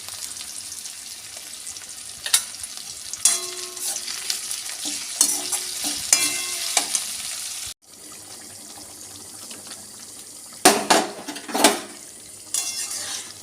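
Egg and potato curry frying and being stirred in a pan, a steady close sizzle with repeated scraping stir strokes and brief clatters, and a short break midway before the sizzling resumes.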